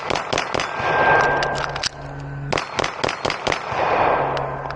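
A Beretta APX A1 Compact Tactical pistol fires a rapid string of sharp, loud shots at a shooting range, with a brief gap partway through and steady ringing in between.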